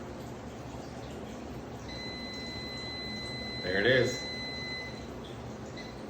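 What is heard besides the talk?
oven timer going off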